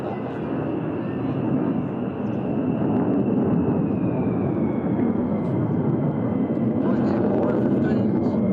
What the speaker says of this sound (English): more F-15s.